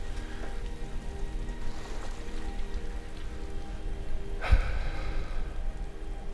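Steady rain with falling snow in a video game, a continuous soft hiss of drops spread evenly across the scene, with one brief knock partway through and no talking.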